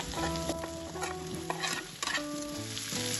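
Pre-fried drumstick stalks and potatoes tossed in spiced oil in a pan, for a Bengali drumstick and prawn dish, sizzle steadily up close while a spatula stirs, with a few sharp scrapes and knocks.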